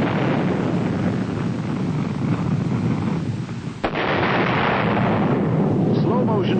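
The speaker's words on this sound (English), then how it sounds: "Slow motion shows the impact in the target area." Honest John missile warhead impact in a target area, a dense, continuous roaring rumble of blast noise with a sharp crack midway, loud and sustained without a break.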